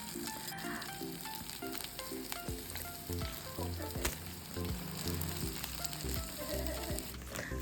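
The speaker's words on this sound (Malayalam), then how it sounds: "ഒരു പാത്രം അടുപ്പിൽ വെച്ച് അതിലേക്ക് കുറച്ച് വെളിച്ചെണ്ണ, കടുക്, ഇഞ്ചി, പച്ചമുളകും വേപ്പിലയും കുറച്ച് സവാളയും ചേർത്ത് നന്നായിട്ട് വഴറ്റിയെടുക്കുക." Onion, ginger, green chilli and curry leaves sauté in coconut oil with mustard seeds in a pan, a steady close sizzle and crackle running throughout with occasional stirring clatter.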